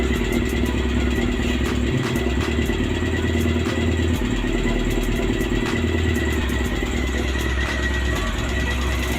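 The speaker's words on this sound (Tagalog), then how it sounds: "Ano, nag-iingay sa makina." Honda CB400 motorcycle engine running with a fault, a steady idle rumble carrying rapid, regular metallic ticking from inside the motor, close up and loud.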